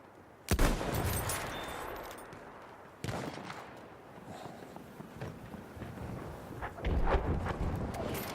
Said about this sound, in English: that would have been the sound of an enemy sniper there on the fortress, lugging rounds at me and trying to suppress me on these rocks